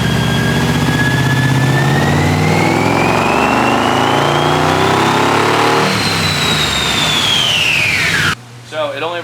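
An LS1 V8 engine swapped into a Nissan 300ZX idles with a loping, choppy cam rhythm, then rises in pitch as it revs up before cutting off abruptly near the end.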